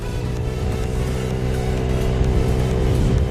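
A scooter engine runs loud and close, with a steady droning hum and a slight rise in revs throughout.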